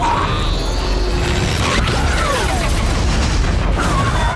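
A loud, dense explosion from an Iron Man film fills the scene with a continuous roaring rumble and crashing debris, heavy and close throughout.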